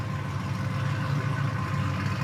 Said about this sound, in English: Okay, this loud truck